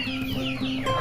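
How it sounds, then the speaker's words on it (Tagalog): Chickens and turkeys in a backyard cluck and call at close range in brief overlapping squawks and gobble-like notes. "Yung mga pabo natin at saka manok."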